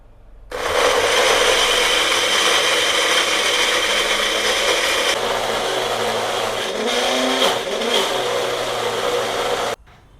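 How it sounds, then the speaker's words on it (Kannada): An electric mixer grinder processes roasted spices and sesame for a brinjal curry. It starts abruptly, whirs loudly and steadily for about nine seconds with a brief wavering strain near the end, then cuts off sharply. No one speaks. "ಇದನ್ನು ಸ್ವಲ್ಪ ಮಿಕ್ಸಿಲಿ ಗ್ರೈಂಡ್ ಮಾಡ್ಕೊಳ್ಳೋಣ"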